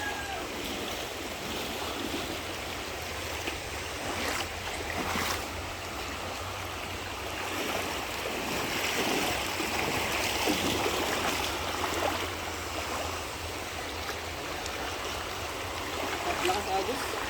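A strong river current rushes in a continuous broad roar of flowing water, steady and fairly close, with people's voices faintly audible beneath it at times.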